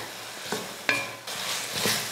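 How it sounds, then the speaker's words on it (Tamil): Vegetables for a spicy kara kuzhambu with brinjal, drumstick and potato sautéing in oil with masala and salt, a steady sizzle broken by a few scraping stirs of a spoon against the pan. "2-3 நிமிஷத்துக்கு நல்லா அந்த எண்ணெயிலேயே அந்த காய் கூட சேர்த்து வதக்கி விடுங்க."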